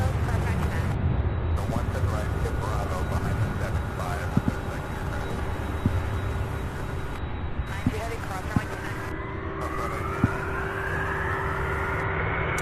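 A Dash 8F cargo turboprop at Louisville International Airport's UPS Worldport gives a steady, loud engine roar that continues throughout, with a rising whine building toward the end and a few sharp clicks along the way.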